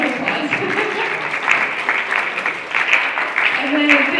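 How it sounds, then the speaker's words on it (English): Applause from a symposium audience after the judges are thanked, a steady wash of many hands clapping at moderate level throughout, with some voices mixed in. "Round of applause."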